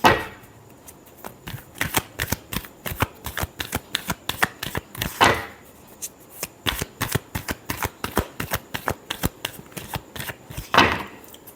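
Tarot cards are shuffled by hand in repeated quick riffles, crisp papery bursts in clusters with short pauses between them, close and clear with no talking.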